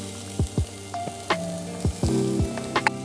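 Chopped onion fries in hot oil with whole cloves and cinnamon stick for Maratha-style chicken biryani, a steady close sizzle with stirring scrapes and clacks of a utensil against the pan.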